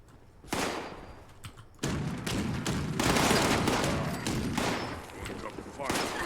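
Rapid bursts of gunfire in Fallout 76, loud, close, dense volleys starting abruptly and continuing almost without pause, with a voice briefly audible among the shots.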